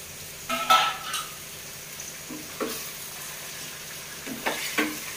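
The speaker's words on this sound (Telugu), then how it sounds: "ఇప్పుడు మనం తీసుకున్న చికెన్ వేసేద్దాం." Chicken pieces with onions and tomato fry in oil, giving a soft continuous sizzle broken by three bursts of louder scraping and clattering as the pan is stirred, with no talking.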